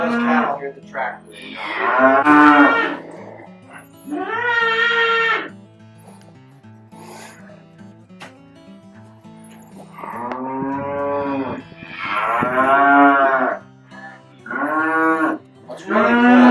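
Several cattle on a ranch moo loudly and repeatedly, long drawn-out calls overlapping with one another and a tractor engine's low hum in the background.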